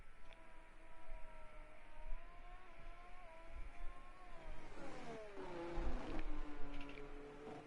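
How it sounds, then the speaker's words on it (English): Race cars on a formation lap at Bahrain circle past, engine tones rising and falling in a steady drone, growing louder toward the end as several cars pass close by. "the cars make their way through on the formation lap."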